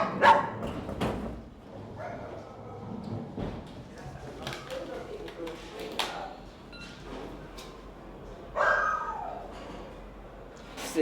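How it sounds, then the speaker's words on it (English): A stray dog in a crate at an airport gives short, sharp barks and low growls. The sounds are scattered and moderately close, with a louder outburst near the end. "Though a growl and a bark need little translation."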